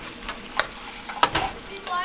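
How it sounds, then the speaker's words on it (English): Lean ground beef browns in a pan as a spoon stirs it, giving a few short scraping strokes over a soft sizzle with faint speech mixed in. "So I'm just gonna continue to mix this."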